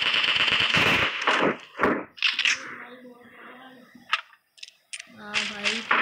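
Video game gunfire, a loud burst of rapid shots at the start followed by a few scattered single cracks, with a voice talking between them.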